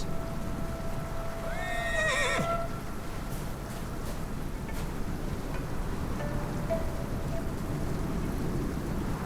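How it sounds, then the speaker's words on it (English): A horse in the video game Where Winds Meet lets out a sharp rising whinny over a constant rainy hiss, followed later by a shorter, softer neigh. "Ah, what a horse."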